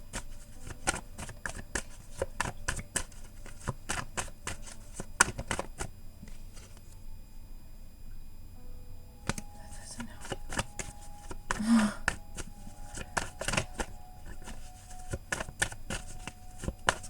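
Tarot cards being shuffled in quick, crisp flurries of papery riffles close by, broken by short pauses, with a voice talking over parts of it.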